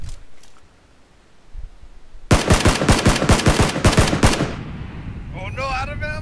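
Rapid bursts of automatic gunfire in a video game ring out loud and close for about two seconds after a quiet opening, followed by excited players talking over game noise.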